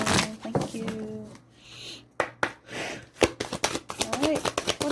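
Tarot cards are shuffled in short crisp riffling bursts near the microphone, preceded by a person speaking.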